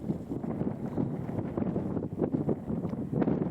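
Strong wind gusting across the top of Winter Hill, buffeting the microphone in uneven rumbling bursts, fairly loud and close, with no talking.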